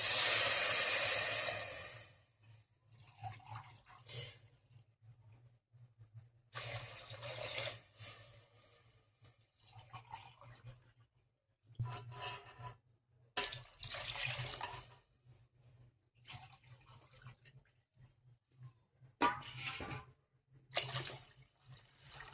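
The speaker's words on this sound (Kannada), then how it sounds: "ಇವಾಗ ಅಕ್ಕಿ ಮೇಲೆ ನೀರು ಹಾಕ್ತೀವಿ" Water runs from a tap onto rice in several separate bursts, splashing and hissing, with quiet pauses between pours and a low steady hum underneath.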